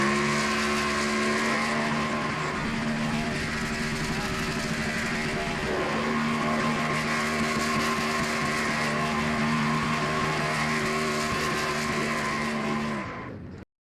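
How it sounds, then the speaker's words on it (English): A race car's victory burnout at New Smyrna Speedway in a racing video game, a sustained loud engine roar blended with screeching tire squeal that holds steady and then cuts off abruptly. "And after this burnout, folks, we will get into the finishing results in this race."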